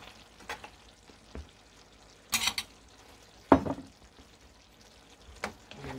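Beef afritada being stirred in a pan, a few scraping and clattering strokes over a quiet sizzle of frying food.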